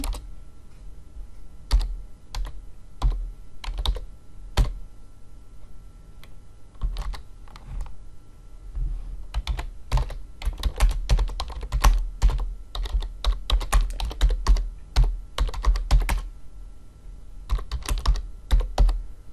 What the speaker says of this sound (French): Et donc je vais taper msgbox.